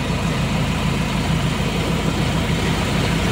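A Ford Raptor pickup's engine idles steadily up close, a continuous low rumble with no talk over it.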